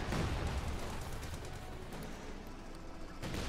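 Machine-gun fire in a tournament match of a war video game crackles as a dense, rapid spray of shots, mid-distance and fairly quiet, with no talk.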